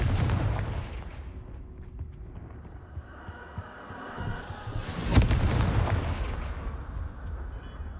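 Spell blasts from the Bombarda charm in the Hogwarts Legacy video game, heavy booming explosions that rumble low and loud, with one especially big burst midway over a constant rumbling background.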